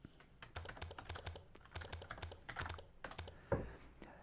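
Rapid keystrokes on a computer keyboard while entering commands in the Signal Simulator game, a steady irregular patter of close clicks with a sharper key strike near the end, no voices.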